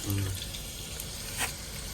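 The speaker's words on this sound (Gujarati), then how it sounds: "ડુંગળી ટોમેટા હવે જશે ડુંગળી ટોમેટા" Onion and tomato frying in oil in a truck kitchen, a steady close hiss of sizzling with a brief low thump at the start and a small splash partway through.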